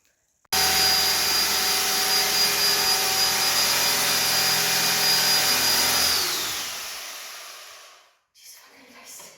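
A reciprocating saw cuts metal stair bars, a loud steady high buzzing drone close by that runs for about six seconds, then winds down and stops, followed by a brief softer rustle.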